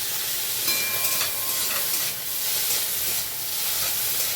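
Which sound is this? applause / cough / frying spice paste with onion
frying spice paste with onion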